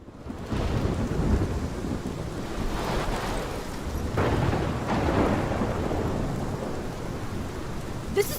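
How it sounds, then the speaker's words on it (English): A thunderstorm in the Life is Strange Double Exposure video game: heavy, steady rain pours throughout while low rumbles of thunder roll through, loud and close, with no talk. "This is my storm!"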